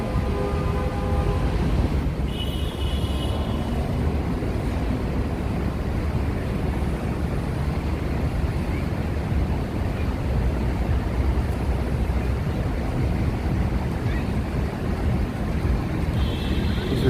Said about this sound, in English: Yeah, this tram is approaching.